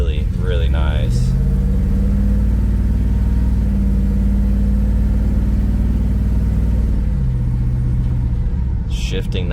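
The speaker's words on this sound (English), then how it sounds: "So we're going to do a brake test here. It stops on a dime." A 1970 Chevrolet C/K 30 truck drives and then brakes to a stop, with a loud, steady low engine rumble filling the whole stretch and a drop in pitch near the end as it slows.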